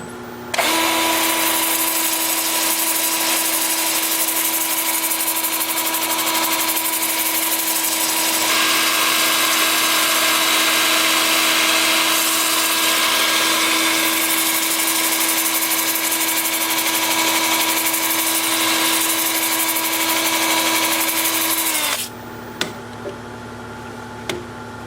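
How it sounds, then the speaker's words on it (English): A 2-inch disc sander with 80-grit paper sanding weathered mountain mahogany, a loud sustained whine with a steady hum that grinds on for about twenty seconds and then cuts out, leaving a few faint knocks. "I'm starting at 80 grit on my 2-inch disc sander."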